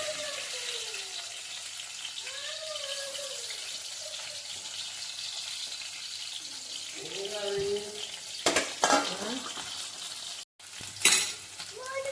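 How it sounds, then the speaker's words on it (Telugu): Chopped onions and green chillies frying in a pan, a soft continuous sizzle with a few stirring scrapes and clatters near the end, close by. "ఉల్లిపాయలు వేస్తున్నాను, పచ్చిమిరపకాయలు కూడా 2 కాయలు కానీ 3 కాయలు కానీ"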